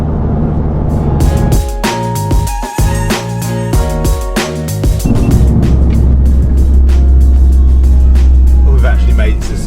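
A high-mileage Volkswagen Golf Edition 30 with a recently sorted clutch drives on the road, its engine droning loudly and steadily with shifting tones as it pulls along.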